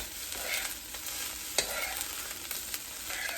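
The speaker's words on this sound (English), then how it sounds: "Now that I have it under control, we'll take and stir our eggs in" Eggs being stirred into rice frying in a pan for teriyaki shrimp fried rice, a steady close sizzle broken by scraping spatula strokes and a few sharp clicks.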